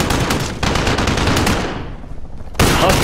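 Heavy machine gun fire rattles in rapid, continuous bursts in the Call of Duty Modern Warfare campaign, loud and close, with a short lull before the firing resumes.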